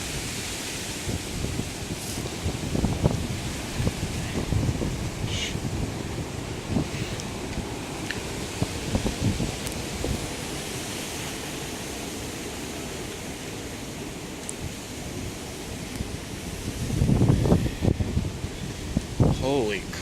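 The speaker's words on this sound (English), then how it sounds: "but it is pretty windy out." Strong wind during a high wind advisory in Kalamazoo County, Michigan buffets the microphone outdoors, a broad rushing roar with gusts swelling and easing over twenty seconds, with voices speaking at points beneath it.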